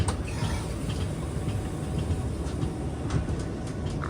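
A Garib Rath superfast express from Yesvantpur to Puri rumbles along the rails through the Nallamala forest ghats, a continuous close rolling roar with occasional clicking wheel beats and no voices.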